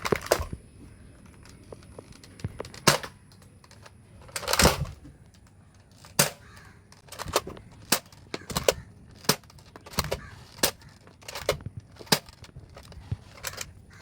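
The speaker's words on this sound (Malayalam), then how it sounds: "ഒരു തവണ ഫയർ ചെയ്യുമ്പോൾ ഇത് ഡ്രമ്മ് തിരിഞ്ഞിട്ട് നെക്സ്റ്റ് ബുള്ളറ്റ് ഓട്ടോമാറ്റിക്കായിട്ട് ലോഡാവും" A Nerf Disruptor blaster fires in a series of sharp, snappy plastic cracks spaced a second or so apart, each followed by the drum rotating to load the next dart, with faint handling clicks between shots.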